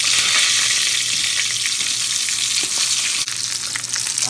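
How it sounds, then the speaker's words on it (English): Pot stickers fry in a hot pan with a loud, steady sizzle and crackle that runs the whole time, near and uninterrupted, with no talking. "pot stickers. That's what I'm frying up."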